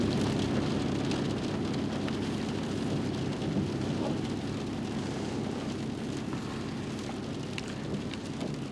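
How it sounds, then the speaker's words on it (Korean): Heavy rain pouring down outdoors in Mongolia, a dense, steady wash of drops drumming on surfaces with no break, fairly soft in level and without voices. "비가 더 세차게 내립니다"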